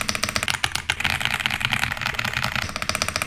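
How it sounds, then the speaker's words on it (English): Computer keyboard keys being typed in a quick ASMR-style sound test, a dense run of crisp clicky keystrokes throughout with no talking. "this video is also going to be a keyboard ASMR quick little sound test"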